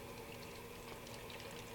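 Water runs steadily from a kitchen sink tap, a constant soft splashing rush with no pauses and no talking.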